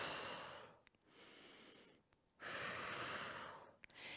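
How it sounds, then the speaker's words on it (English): Deep breathing during a kettlebell workout stretch, heard as close, airy inhales and exhales in long alternating swells with short pauses, quiet and with no talk. "keep going with that nice deep breathing"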